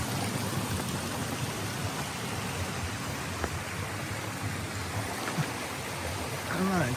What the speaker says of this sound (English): Alright, crossed over Wilbur Brook.